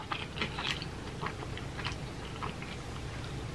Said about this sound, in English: I love how chewy the crust is.